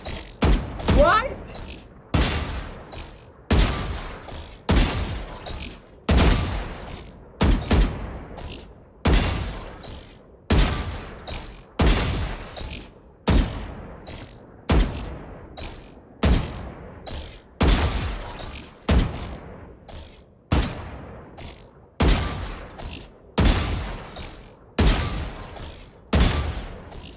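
Repeated gunshots ring out in the competitive shooter Valorant, sharp loud bursts arriving roughly every second or two in a steady, evenly spaced series.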